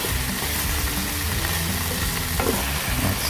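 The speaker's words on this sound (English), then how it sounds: "Let's sizzle up." Chicken and onion sizzle and crackle steadily in a hot pan, with a faint rumble beneath and occasional stirring, no voices.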